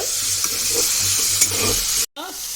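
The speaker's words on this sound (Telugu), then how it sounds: "లివర్వి ఇవి కొద్దిగా మగ్గాలి కదా, ఆయిల్లో మగ్గితే బాగుంటుంది." Chicken liver pieces frying in oil in a pan, a loud close sizzle with rhythmic stirring scrapes, broken by a brief silent gap before the sizzle resumes.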